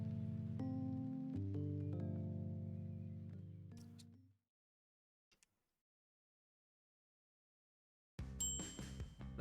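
A faint, melodic electronic chime announcing a KFC chicken sandwich order rings out in several sustained tones and fades away, then after a few seconds of near silence another chime begins.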